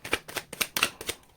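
Tarot cards riffled in a steady series of five or six quick, crisp bursts, close and clear with no talking over them.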